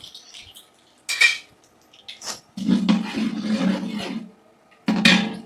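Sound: mustard seeds spluttering in hot oil

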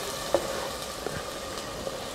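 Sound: nanju kondan greens frying in a pan

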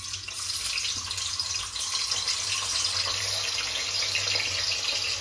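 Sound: milk being poured into a pan

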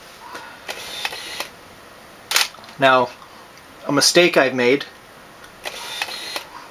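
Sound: Nikon D600 camera lens focusing and shutter during timelapse

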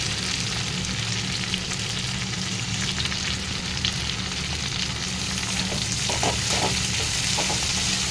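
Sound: potatoes and onion frying in oil in a pan

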